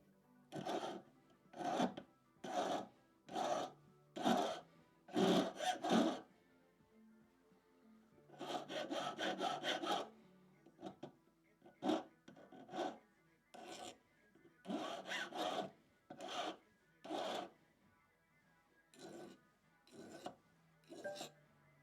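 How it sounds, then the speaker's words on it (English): Small file rasping out imperfections on a tiny handmade mini bracelet, a close, quiet series of short scraping strokes in rhythmic clusters with brief pauses between them. "So I'm just filing out some little imperfections."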